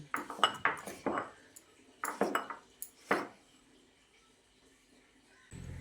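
Metal utensils clink and tap against a bowl in short scattered bursts while mustard and poppy seed paste is scraped in for a Bengali drumstick flower dish, with quiet pauses between and a low thud at the end.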